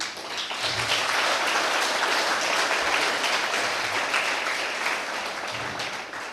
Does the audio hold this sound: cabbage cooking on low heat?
no